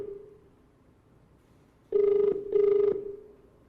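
A telephone rings on a call, two loud electronic ring bursts in quick succession over a low steady hum.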